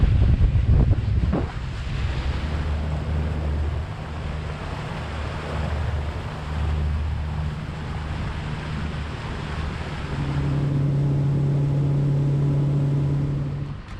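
Wind and surf at a river mouth lined with she oaks and mangroves, a steady broad rush of wind buffeting the microphone over breaking water, with a low droning hum entering near the end.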